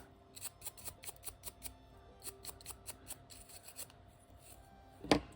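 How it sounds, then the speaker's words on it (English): Clear dip powder being brushed off nails, a rhythmic run of soft, quick sweeping strokes up close, with one sharper knock near the end and no talking. "now I'm going to dust off that clear dip powder"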